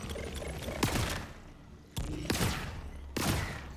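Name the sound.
sniper rifle firing in Borderlands 4 video game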